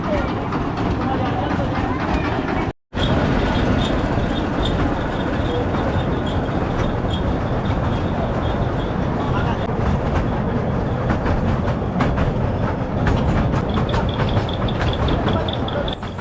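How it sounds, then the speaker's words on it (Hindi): A train arrives at a station near the Elephanta Caves ferry point in Mumbai, producing a loud, continuous rumble and rattle of wagons that fills the whole stretch, broken only by a momentary dropout. "ये लो आ गई हमारी ट्रेन"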